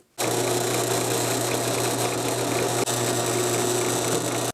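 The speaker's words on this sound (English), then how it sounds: "we're going to add a very tiny drill bit, and we want to go straight through the center." A steady, continuous high-pitched whir of a small drill with a very tiny bit boring through the center of a knob, running close by, with a brief dip near the end and no talking.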